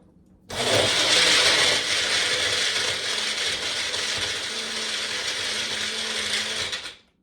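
A Magic Bullet personal blender whirs loudly and steadily for several seconds, with a gritty grinding rattle of ice being crushed, then cuts off abruptly.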